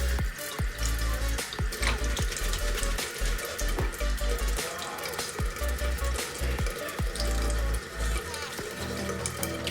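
Tap water runs steadily over a makeup brush being rinsed and scrubbed on a textured silicone cleaner mat, with repeated short rubbing strokes in the stream and no talking.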